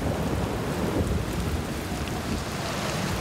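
Steady heavy rain with a deep rumbling undertone fills the scene in the game Outer Wilds, a dense, constant wash of noise with no speech.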